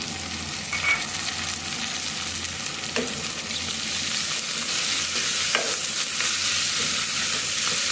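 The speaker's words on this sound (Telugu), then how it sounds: "అంతా ఒకసారి బాగా కలబెట్టుకోవాలి." Chicken curry with fenugreek leaves and coriander frying in a pan, a steady broadband sizzle running throughout while a spoon stirs, with a few sharp scrapes and clinks against the pan; close and fairly loud, no talking.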